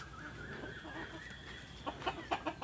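Chickens on a small farm raised by natural methods cluck faintly over a steady background hiss, with a few sharper, closer clucks toward the end.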